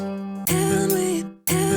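Sampled double-tracked six-string guitar patch from Omnisphere in FL Studio: two bright strummed chord hits, each ringing about a second, close and dry with no voices.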